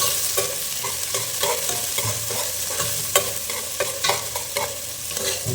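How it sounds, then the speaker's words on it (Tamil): Small chopped onions for a village-style fish curry fry in hot oil, a steady close sizzle broken by frequent scraping stir strokes of a spoon against the pan, with no voices. "இப்போ வெங்காயம் போட்டுக்கிறேன், சின்ன வெங்காயம் கட் பண்ணி போட்டுருக்கேன்"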